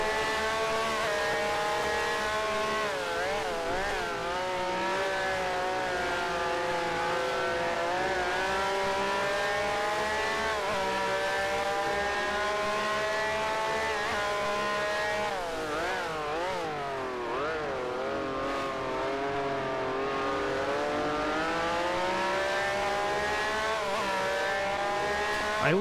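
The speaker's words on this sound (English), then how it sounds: "I think the Honda engine sounds so bloody awful that you don't want to come across one" A Honda race car engine in a sim racing game screams continuously at high revs, its pitch rising and dropping through gear changes, loud and close throughout with no talking.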